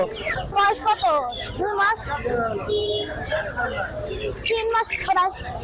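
Desi chickens and hens with chicks cluck and squawk repeatedly at a busy poultry market in Mirpur 1 during cold winter weather, mixed with constant nearby crowd chatter and bargaining voices.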